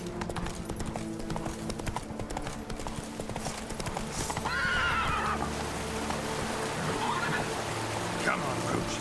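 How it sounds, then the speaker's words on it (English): A horse gallops and neighs in The Witcher 3 video game, with rapid close hoofbeats under light rain and background music and a whinny midway. "That's it, Roach."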